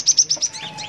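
Gelatik batu birds at a bird-seller's kiosk give a quick run of sharp, high chirps, several in a row, fairly close and clear, followed by softer twittering.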